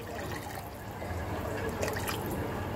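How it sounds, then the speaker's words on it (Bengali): Water poured into a hilsa fish curry with potatoes and nigella seed tempering to make the gravy, a faint, steady trickle and splash heard alone for a few seconds. "এই আমি দিয়ে দিলাম ঝোলের জন্য জল"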